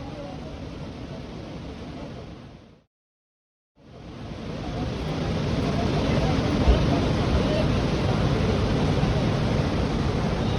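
Water from ten open spillway gates at Srisailam dam roars in a continuous broadband rush, briefly cut out then returning louder and steady, near and dense.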